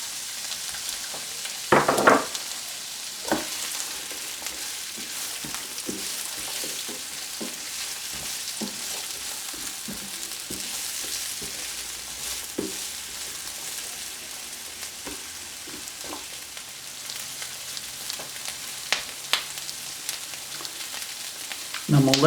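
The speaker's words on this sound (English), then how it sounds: "I'm gonna let these onions saute for about 2 minutes." Onions sauté in a pot with a steady, soft sizzle that runs throughout, broken by occasional sharp clinks and scrapes of a utensil stirring against the pot.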